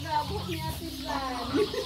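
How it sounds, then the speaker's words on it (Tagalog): Chickens cluck on a farm in the countryside, several short calls mixed with people talking nearby. "Daming manok."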